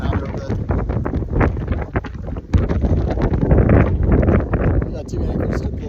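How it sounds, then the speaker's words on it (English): Strong wind of about 30 mph gusting over a boat riding at anchor, a loud continuous roar and buffeting rumble on the microphone, with a sharp surge partway through, while a person talks over it. "that it's a 30-mile-per-hour gust outside today."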